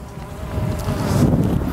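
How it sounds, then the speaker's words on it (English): Steady wind noise rushing over the microphone at the seafront, with a low buzzing drone of a DJI Air 2S drone underneath. "It's quite windy down here at the front as well."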